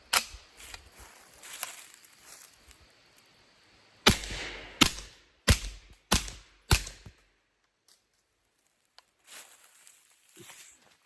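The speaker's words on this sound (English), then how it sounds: "So we're gonna put 4 or 5 rounds down range." An MP5 clone with an Olight Osight fires rounds downrange outdoors: about eight sharp, fairly muted reports, a scattered burst followed by four evenly spaced loud shots, then quiet with faint rustling.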